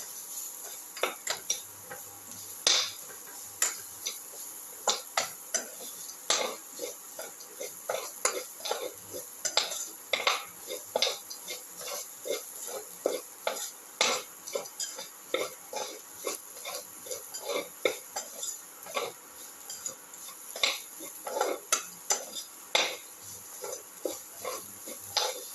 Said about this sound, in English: Thoroughly saute mix.